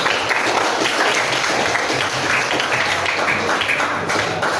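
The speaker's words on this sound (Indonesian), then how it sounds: "Tepukan dulu." A classroom of students applauding together, dense continuous clapping that stays loud and even for several seconds, with no talk over it.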